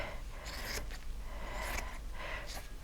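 Scissors snip faintly through a fabric edge in a few soft, brief cuts, close but quiet, over a steady low background hiss.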